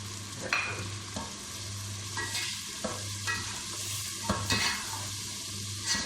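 Puna gosht masala and whole cumin seeds fry and stir in a pan, giving a steady close sizzle broken by scraping spoon strokes, with no talking.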